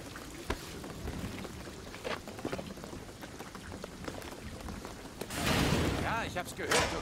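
Rain falls in the video game Shadow of the Tomb Raider, a steady patter of drops with scattered sharper hits, swelling into a heavier wash near the end. Voices speak faintly underneath.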